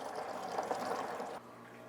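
Homebrew wort pours and trickles steadily as it is transferred and sampled, a soft liquid rush that cuts to a quieter hiss near the end.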